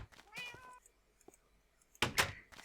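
Cat meows close by, a drawn-out meow early on followed by a quiet pause, then a loud thump like a door or knock.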